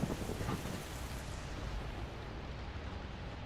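Steady rain falls outdoors in the video game Schedule 1, a continuous soft hiss with a low rumbling undertone, moderately quiet and alone.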